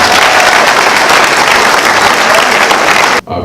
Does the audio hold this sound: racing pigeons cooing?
no